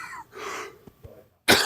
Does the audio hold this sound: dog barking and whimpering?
no